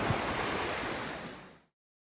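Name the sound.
ocean waves on beach, Punta Cana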